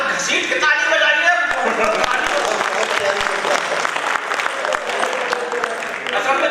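A crowd claps steadily and loudly through a hasya kavi sammelan, a Hindi comic poetry recital held at a state museum in Ranchi, Jharkhand; the applause stays full and continuous for several seconds without any voices on top.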